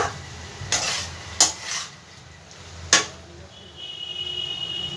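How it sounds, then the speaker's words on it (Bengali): Potato and paneer dalna gets stirred in a pan, with a few distinct scraping and clanking strokes over a low, steady sizzle, close by and with no talking. "ঢাকনাটা খুলে একটু নাড়াচাড়া করব ভালো করে একটু নাড়াচাড়া করে নেব"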